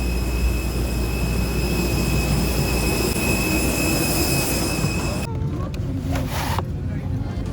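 An Airbus A319's jet engines roar loud and constant from inside the cabin, with a steady high whine running over the broad rumble, then the sound shifts abruptly partway through.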